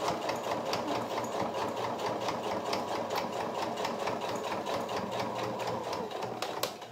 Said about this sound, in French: Et je vais arrêter ma couture à 1 cm du bord.